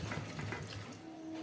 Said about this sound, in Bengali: আরও সামান্য একটু জল দিলাম